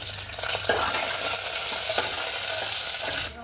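Steady, close sizzling of hot oil as dried red chillies and curry leaves fry, with occasional scrapes of a spoon stirring the pan.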